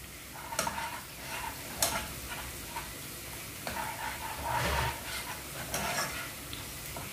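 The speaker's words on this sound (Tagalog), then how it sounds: "nagbabrown po siya. Sinosote ko po ng maayos." Squid sautés in a pan with a steady sizzle and frying crackle close by, broken by stirring scrapes and light knocks of a utensil against the pan.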